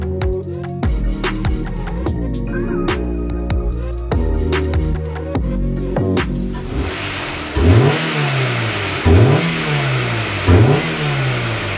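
Honda S2000 engine with an airbox box mod, a busy stretch of sharp overlapping sounds, then three loud throttle blips rising and falling in quick succession, close by with no talking.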